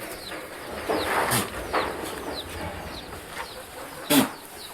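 Faint, scattered clucks and bird calls sound from a short distance, over a soft background hiss, with one brief louder burst near the end.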